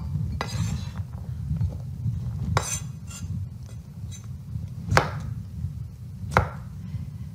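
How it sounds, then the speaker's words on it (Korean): A knife chops through a kabocha squash with the skin still on, cutting it into cubes: several sharp, scattered thuds against a board over a steady low background hum, with no one talking. "호박은 이 껍질째 깍둑 썰기를 할 텐데요"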